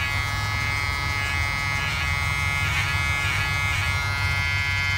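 An electric clipper buzzes steadily close by while trimming a Westie puppy's fur, a continuous motor drone with slight pulsing as the blades move through the coat.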